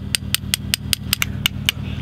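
Someone hammers with a ratchet instead of a proper hammer while working on a classic Mini, giving a steady series of about ten sharp metallic taps over a low engine-like hum.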